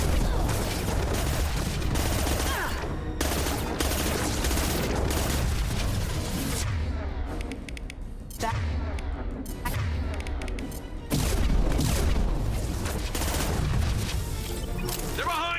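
Rapid, sustained bursts of gunfire from Mass Effect 2, several weapons firing close and loud almost without pause, with brief lulls and crashing impacts between volleys.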